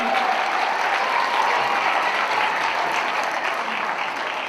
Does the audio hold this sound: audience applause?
yes